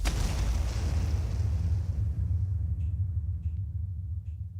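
Generic medium explosion sound effect for a 2D remake of the game Hogs of War: a loud, close boom with heavy low rumble that fades slowly over several seconds, no voices.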